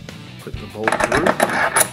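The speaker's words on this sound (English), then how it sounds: "Put the bolt through." A metal bolt slides through a tow bar and bushing with a wave washer on an E-Z-GO golf cart, giving a brief series of close, bright metallic clinks and taps.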